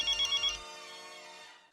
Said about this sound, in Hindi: देखो कौन है? कौन है? अंजलि का फोन